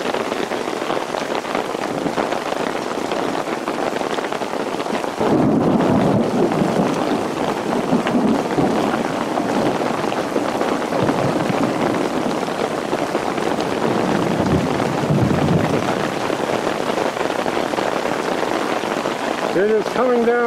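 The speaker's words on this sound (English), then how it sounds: "The rain on the roof of my canopy." Heavy Arizona monsoon rain pours onto a canopy roof at a travel trailer campsite, a loud, continuous drumming patter with gusty wind buffeting the microphone and a brief surge in intensity partway through.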